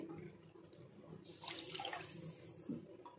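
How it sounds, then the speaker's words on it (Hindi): Water pours into a saucepan of sugar for sugar syrup in a kitchen, a quiet splashing trickle that swells briefly midway, close and faint with no talk. "अब दो कप चीनी के लिए हम दो कप पानी ऐड करेंगे इसमें"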